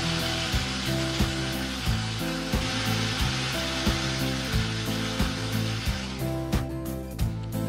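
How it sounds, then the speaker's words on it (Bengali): An electric kitchen blender whirring through rice-flour batter for patishapta pitha, a loud steady motor drone with a pulsing, rhythmic churn as the jar contents cycle, cutting down toward the end, with no talking. "এর জন্য আমি ব্লেন্ডারে ব্লেন্ড করে নিচ্ছি"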